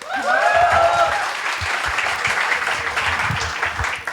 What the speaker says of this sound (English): Another round of applause for Ria.